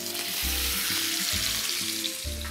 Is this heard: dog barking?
no